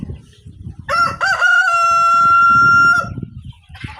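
An adult Bahama rooster crows once, loud and close, a single long sustained call lasting about two seconds amid quiet farmyard background noise.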